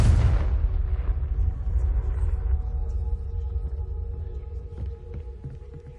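A Confringo spell detonates in the Hogwarts Legacy game, opening with a loud blast and trailing off into a long, deep rumbling decay that fades slowly.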